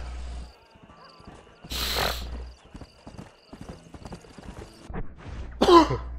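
Hooves clip-clop in a steady run from a horse in the PS3 game Red Dead Redemption, with a brief whinny and other game noises around it; a voice briefly cuts in.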